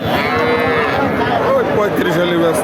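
A Sahiwal-breed cow with her calf at Chougachha cattle market in Jessore gives a close, loud moo that stretches over the whole moment, with market chatter and bleating-like calls behind it.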